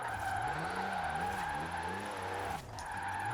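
Diesel-powered drift car in Forza Horizon 4 holding a steady, loud engine drone in fourth gear, with tires squealing and skidding continuously through the slide and a brief dip near the end.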